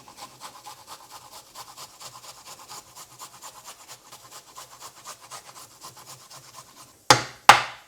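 Fresh ginger and garlic rubbed back and forth over a kitchen grater, a steady run of soft, fast rasping strokes close by, ending with two louder scraping bursts.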